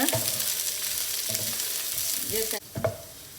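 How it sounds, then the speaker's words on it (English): Onion dropped into about three tablespoons of hot oil for a prawn biryani, giving a steady broadband sizzle with stirring scrapes, a sudden drop in intensity near the end followed by a sharp clatter. "I'm adding about 3 tablespoons of oil. Added onion."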